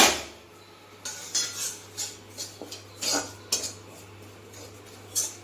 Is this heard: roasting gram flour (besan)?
yes